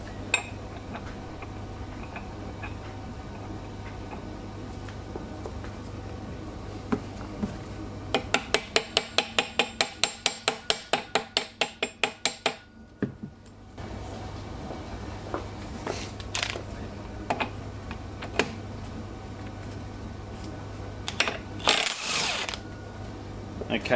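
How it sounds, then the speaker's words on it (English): A hand tool works at the primary gear nut on a Ducati Hypermotard 1100 engine during a bottom-end strip, giving a run of quick, even ratcheting clicks, then scattered metallic knocks and clinks in a quiet workshop. "we'll loosen off that primary gear nut now"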